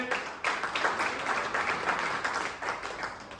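Audience applause for a guest at a community conference in Guna, Madhya Pradesh: steady, dense clapping from a large crowd that fills the whole stretch without pause.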